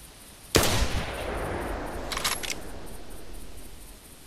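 A single loud hunting rifle shot at a deer in theHunter Classic, a sharp close crack with a long rolling echo, then a brief metallic rattle of the bolt a moment later, with no talk.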